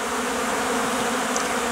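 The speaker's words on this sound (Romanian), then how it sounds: "Toate albinele au ieșit într-o cantitate foarte mare la zbor de curăț." Honeybees pour out of their hives in large numbers for a cleansing flight at an apiary on a February afternoon, a dense, steady buzzing drone that stays close and constant with no voices.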